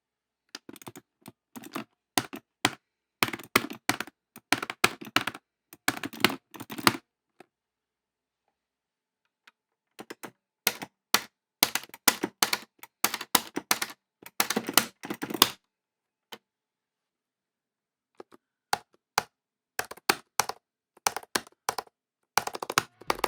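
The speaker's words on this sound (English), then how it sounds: "finally and lastly, we will compare the sounds to the Razer Kitsune." Buttons on a Razer Kitsune Cammy Edition controller click in rapid bursts, sharp plastic taps in quick clusters with short silent pauses, close and dry, no voices.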